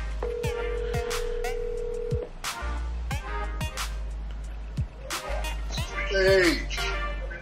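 Phone keypad tones and a dial tone as a call is placed on a phone, a steady tone followed by short beeps, with a voice talking over parts of it.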